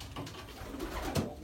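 Soft, low cooing of racing pigeons in a loft, several gentle murmuring calls close by in a quiet, slightly echoing space.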